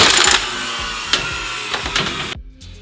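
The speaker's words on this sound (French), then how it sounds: "on va utiliser une technologie un peu plus poussée, à savoir le cloueur béton" Concrete nail gun fired into a concrete slab, a loud mechanical burst followed by several sharp close impacts and whirring, ending in near silence.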